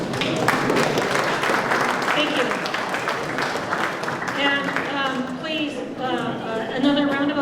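Audience applause at an insurance town hall, a dense wash of clapping that carries on under and alongside talk and voices in the room.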